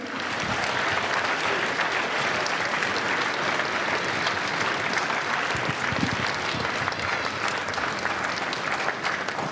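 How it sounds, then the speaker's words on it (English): Students in the audience at an all-county band concert give sustained applause for their parents, a continuous wash of many hands clapping evenly from start to finish. "please give a round of applause to your parents who supported you"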